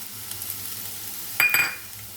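Capsicum sizzles softly in a pan while a utensil stirs it, with a couple of brief clinks against the metal, close and quiet.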